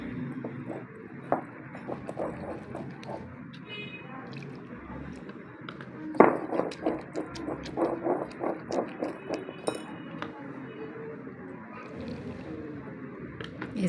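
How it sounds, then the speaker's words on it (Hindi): Cold water poured in a little at a time and stirred into gulgule batter, with wet squelching, sloppy mixing strokes and occasional clinks of a spoon against the bowl growing busier midway through. "अब हम इसमें थोड़ा थोड़ा करके ऐड करेंगे और फिर हम इसको मिक्स करते जाएंगे"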